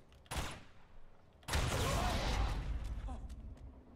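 Gunfire from the player's gun in the video game Uncharted, during a tutorial: a sharp shot rings out, then after a pause a second, louder burst of fire trails into a long, rumbling echo.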